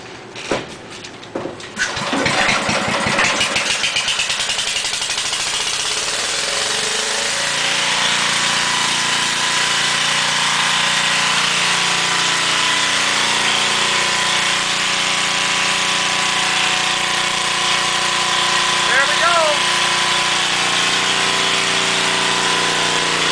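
A small generator engine cranks with a few rattling pulls, catches, and then settles into a steady, loud, close idle that holds without a break.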